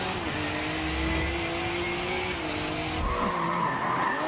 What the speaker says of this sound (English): Ominous skies roll in as car parts rattle and vibrate.